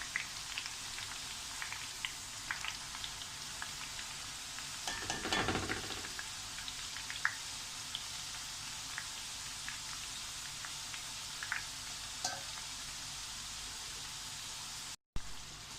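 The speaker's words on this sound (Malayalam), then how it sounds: "ഇട്ടത് ഒന്ന് ഇളക്കി കൊടുക്കണം, അല്ലെങ്കിൽ ഇത് കായ അങ്ങനെ ഒട്ടിപ്പിടിച്ചിട്ടുണ്ടാവും." Raw banana slices frying in oil for chips, a continuous soft crackling sizzle with scattered pops and a brief louder burst of stirring midway, no voices.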